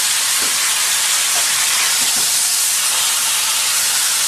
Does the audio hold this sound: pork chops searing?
yes